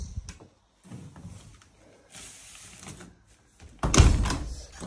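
A room door in a house being checked at move-in is swung open and shut, with several handling rustles and creaks leading to a louder closing thump near the end, recorded close by.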